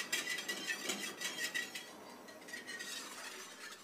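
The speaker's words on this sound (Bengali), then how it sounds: "চুলায় আমি এটা বসিয়ে দিয়েছি এবং এটা নেড়ে দিতে হবে অনবরত" A spoon stirs custard milk in a pot on the stove, with continuous soft scraping and light metallic clinks against the pot, quiet and close, with no voices.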